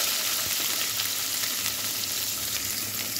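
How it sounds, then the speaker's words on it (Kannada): Onions fry in oil with cinnamon and cloves for a mutton pulao, giving a steady, close, dense sizzling hiss throughout with no talk. "ನೀರುಳ್ಳಿ ನಿಂತು ಅಂತೆ ಬ್ರೌನ್ ಕಲರ್ ಫ್ರೈ ಮಲ್ಪೋಡು"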